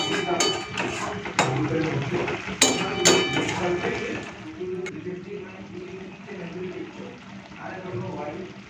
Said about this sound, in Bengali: এখন এই ভেজে রাখা মাছগুলো দিয়ে দেবো।